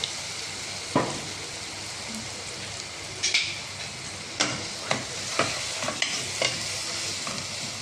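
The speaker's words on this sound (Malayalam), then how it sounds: "ആദ്യം ഉള്ളി ഇടാം. ഇഞ്ചിയും വെളുത്തുള്ളിയും കൂടെ ഇത് മൂന്നും കൂടെ നമുക്ക് ഒന്നിച്ച് വഴറ്റിയെടുക്കാം" Chopped onion, ginger and garlic sauté in a hot pan with a steady close sizzle, broken by several sharp scrapes and knocks of a spatula stirring them.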